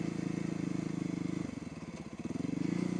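A motorcycle with a sticky, touchy throttle rides slowly at low speed, its engine a close, loud, steady pulsing thrum that briefly dips and roughens before settling back.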